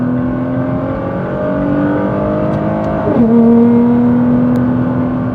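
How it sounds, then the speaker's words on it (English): A Nissan GT-R's exhaust drones loudly and close up as a steady engine tone that dips and shifts pitch midway, as at a gear change, then holds again, with no speech. "The sixth thing that I really enjoy about this car is the exhaust."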